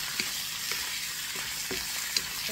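Pork belly sautés in a pan with a steady, faint sizzle and a few light clicks of stirring, alone without talk.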